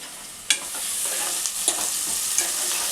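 Marinated chicken coated in chili powder, turmeric and ginger-garlic paste fries in a pan for a Telangana-style chicken curry with field beans, giving a steady close sizzle broken by a few sharp stirring scrapes.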